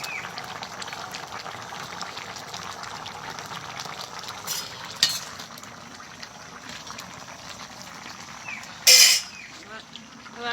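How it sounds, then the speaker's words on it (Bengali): Fish pieces drop into a pot of boiling curry with potatoes and pointed gourd. A steady simmering bubble runs throughout, with a short, louder splash near the end. "এবার মাছগুলো দিয়ে দেবো।"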